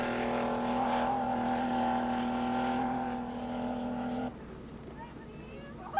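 Porsche 959 rally car racing across the desert in the 1986 Paris–Dakar rally, its engine a loud steady drone that drops off sharply near the end, with a voice speaking over it.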